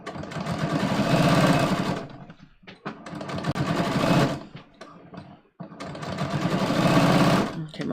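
A sewing machine stitches a jeans waistband in three loud, steady bursts of whirring, with short pauses between runs.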